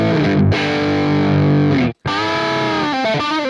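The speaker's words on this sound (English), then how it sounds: "That sounds like an overdriven Marshall with an overdrive pedal in front of it." Electric guitar through a Neural DSP Nano Cortex with an overdrive pedal in front, giving an overdriven Marshall-style tone: loud, saturated chords ringing out, a brief cut near the middle, then renewed strumming and picked notes, with no talk.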